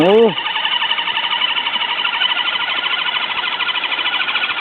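An FTX Kanyon RC crawler runs at low speed, its electric motor giving a loud, steady, rough whine with a gritty pulsing texture that holds throughout, preceded by a brief rising tone at the very start.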